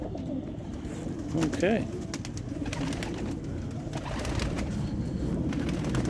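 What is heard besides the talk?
young racing pigeons cooing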